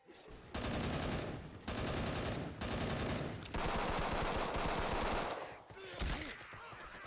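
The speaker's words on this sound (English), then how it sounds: "Stop shooting me!" Sustained automatic gunfire in a Left 4 Dead style zombie shooter, long rapid-fire bursts rattling continuously with short pauses between them, loud and close, fading into quieter ambience at the end.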